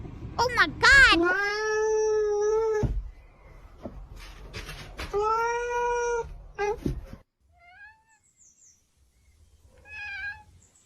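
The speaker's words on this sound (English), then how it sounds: "I like the cat sound when they talk, like they're drunk." A cat in a funny cat video meows loudly and drawn-out several times, then gives fainter short mews, with a person talking over parts of it.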